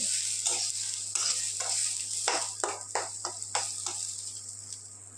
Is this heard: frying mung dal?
yes